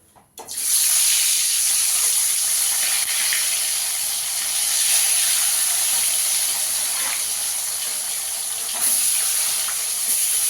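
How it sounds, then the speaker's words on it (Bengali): Fish frying in hot oil in a wok, a loud, steady hiss that bursts in at once and holds evenly for about ten seconds, with no talking. "এবার মাছগুলোকে ভেজে নেব।"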